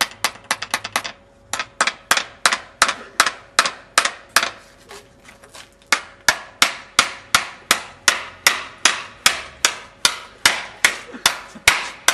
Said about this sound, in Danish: Nu skal de her svejebrætten her sømmes sammen.